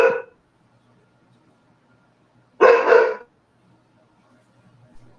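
A single dog gives two separate sharp barks a few seconds apart, close and loud, with near silence between them.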